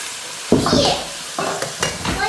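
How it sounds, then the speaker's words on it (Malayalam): Continuous hiss of carrots frying in sesame oil, broken by several bursts of louder sizzling and stirring as the carrots are moved around the pan. "ക്യാരറ്റ് നന്നായിട്ട് നല്ലെണ്ണയിലിട്ട് വറുത്തെടുക്കുക"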